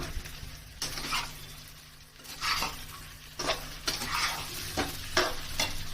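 Chicken curry with tomato sizzling in a pan while being stirred, loud scraping bursts of the spoon recurring every second or so over a continuous close fry.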